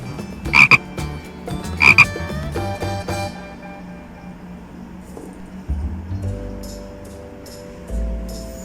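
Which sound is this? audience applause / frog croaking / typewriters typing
frog croaking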